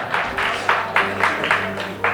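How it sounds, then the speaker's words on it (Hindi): Audience applause at a Hindi poetry recital: a steady wash of many hands clapping, moderately loud and continuous, pulsing slightly in waves over a low background hum, with no voices on top. "जोरदार तालियां"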